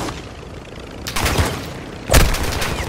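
Gunfire in Call of Duty Modern Warfare 2 sounds as two loud, close bursts of rapid shots, each ending in a booming roll, over a constant low battle rumble with no speech.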